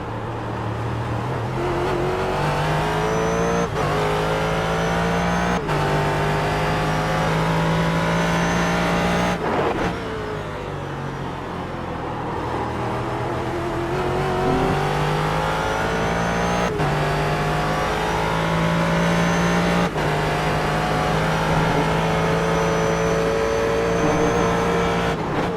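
Onboard race car at Sebring in a two-hour race, engine loud and steady with repeated rising revs and sharp drops at gear changes, a close continuous roar throughout with no talk.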